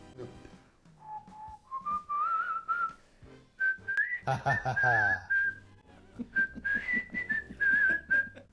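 A person whistles a bright melody in clear held notes and short phrases, close and fairly loud, with a brief burst of other sound midway.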